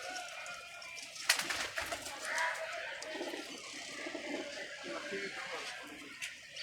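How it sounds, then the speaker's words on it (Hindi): Pigeons cooing nearby in soft, low murmuring calls with some wing flutter and rustling, partly overlapped by people talking. "ये भी 3 कबूतर देखना।"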